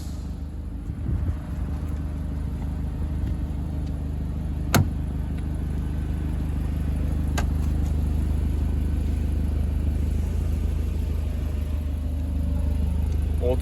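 Alpine A110 sports car driving on the road, a steady low engine and road rumble from inside the cabin with a couple of brief clicks, continuous throughout.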